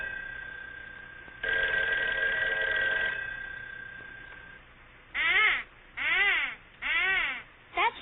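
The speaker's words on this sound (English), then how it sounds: "That's no way to answer the phone, Susie." An old-style telephone bell rings in one sustained burst of about two seconds, followed a moment later by a series of short, warbling, rising-and-falling tones in a quiet room, with no talking.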